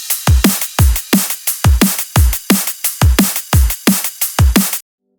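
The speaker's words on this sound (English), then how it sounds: "It sounds like this. This is just drums." A drum loop with no sidechain plays loud and close: punchy kicks with bright, crisp tops land in a steady, repeating pattern, roughly two hits per second, before stopping abruptly into silence.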